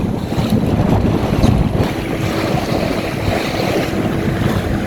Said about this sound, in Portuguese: Olha uma rajada entrando aqui, ó.